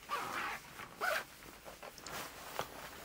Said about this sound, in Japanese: ここから ジッパーを締めていくわけですが